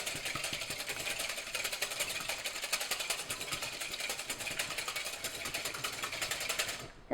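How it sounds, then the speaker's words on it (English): Rapid, steady whisking of one large egg in a large bowl, a continuous fast scraping whir of the whisk against the bowl that runs evenly close up and stops abruptly at the end, no talking. "I have 1 large egg in here, and I'm just going to whisk that"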